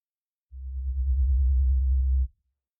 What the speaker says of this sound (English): The sub, again, is a sine wave taken down by 2 octaves with just the filter